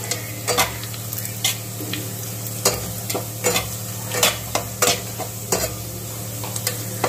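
Golden-browned onions with bay leaves stirred in a pan of oil for mutton tehari, a steady sizzle over a low hum, punctuated by a series of distinct scraping strokes of a spoon, close and without talking.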